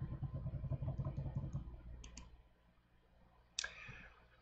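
A computer mouse clicks a few times, faint and close, while photo editing software is used on water drop images, following a stretch of low rumbling noise.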